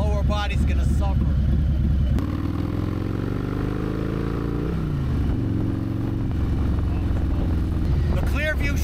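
Motorcycle riding along at 40 mph, engine note rising steadily in pitch as it accelerates then settling into a steady drone, with wind rush underneath and a voice talking over it.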